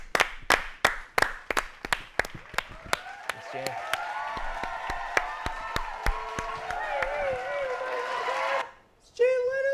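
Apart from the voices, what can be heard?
studio audience applause for Jay Leno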